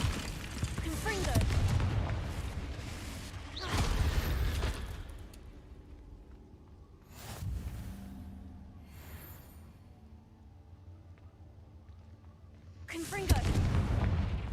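Confringo blast spells going off in Hogwarts Legacy, several heavy booming explosions in separate bursts with rumbling tails, loud and close, with quieter game ambience in between.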